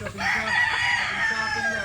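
A chicken rooster crows loudly and close, one long drawn-out call lasting nearly two seconds.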